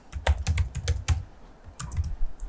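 Typing C++ code on a computer keyboard: an irregular run of close, crisp key clicks with short pauses between bursts, no voices.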